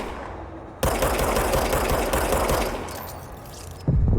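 A shape-shifting service pistol firing in a supernatural action game, a sudden rapid burst of close, loud shots in a fast even rhythm that holds for about three seconds, then stops.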